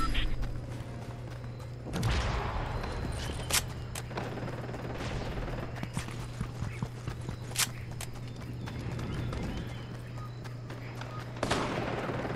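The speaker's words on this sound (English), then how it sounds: "Well, I hear gunshots." Gunfire rings out in a video game as sharp, spaced shots, several loud cracks scattered over a steady background hum, with hoof-like clopping and faint noises between them.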